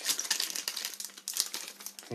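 Crinkling foil of a Pokémon card booster pack being torn open, a dense crackly rustle that runs the whole time, close and fairly loud.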